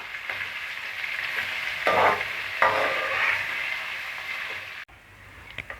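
Onions fried until golden over low gas for egg biryani, a continuous sizzle broken by two louder scraping stirs of a ladle, close up, before the sound drops away abruptly near the end.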